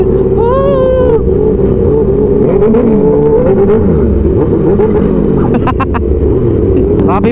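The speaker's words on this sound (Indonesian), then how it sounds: "Panjang banget pastinya ratusan motor ini." A long two-row convoy of hundreds of motorcycles on a Sunday morning group ride, with escorting police, gives a loud, continuous engine drone and revving. Excited voices talk over it throughout.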